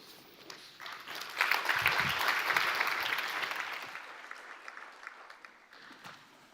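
A conference audience at a European Investment Bank event gives a round of applause that swells into dense, steady clapping and then slowly fades to scattered claps.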